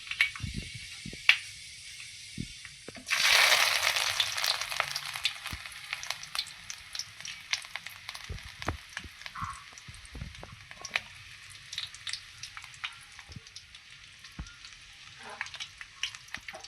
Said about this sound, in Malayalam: മീൻ വറുത്ത് കോരിയ അതേ എണ്ണയിലോട്ട് കടുക്, ഉലുവ, കറിവേപ്പില, ഇഞ്ചി, പച്ചമുളക്, വെളുത്തുള്ളി എന്നിവ ഇട്ട് കൊടുത്ത് നല്ലപോലെ മൂപ്പിച്ചെടുക്കാം